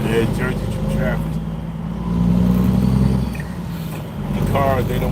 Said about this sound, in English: Jersey traffic.